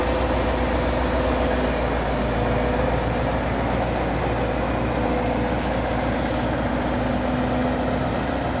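Tatra 148 truck engine running, a steady, loud diesel drone with constant low rumble and no breaks, close by and alone.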